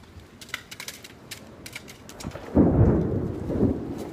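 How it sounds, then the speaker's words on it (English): During an April spring storm, thunder cracks and then rolls into a loud, deep rumble, with rain pattering on surfaces throughout and no talk. "It's gonna storm."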